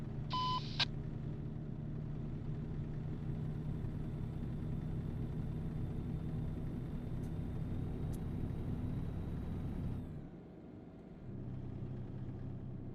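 A truck engine in the trucking simulator TruckersMP idles with a steady low rumble throughout, briefly broken by a few short electronic beeps at the start and a dip in engine drone near the end.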